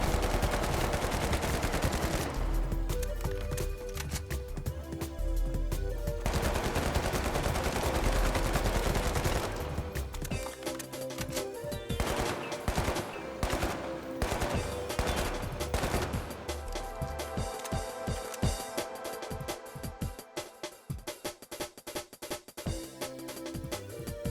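AKM assault rifle fire in The Finals, dense rapid automatic bursts crackling loud and close, with short pauses between strings of shots and no voices.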